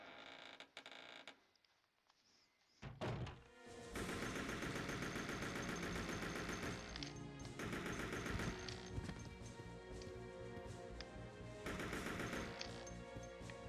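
AK rifle blasting at a zombie in Resident Evil Code Veronica X: after a quiet creaking lead-in, a loud, sustained burst of rapid automatic gunfire rattles on for several seconds.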